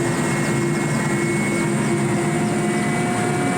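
Helicopter setting down in a riverbed during a mountain hunting trip, its steady loud rotor and engine drone holding throughout at close range with no voices.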